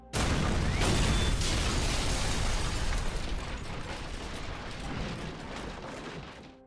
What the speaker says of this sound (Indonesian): sebuah ledakan hebat terjadi di rumah pasangan Tim dan Natalie